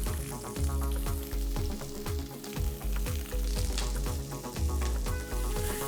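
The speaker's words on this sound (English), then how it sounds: "I'm going to add in sliced onion" Sliced onion sizzles steadily in hot oil with cumin, mace, cloves and whole black pepper, a continuous close frying hiss heard under rhythmic background music.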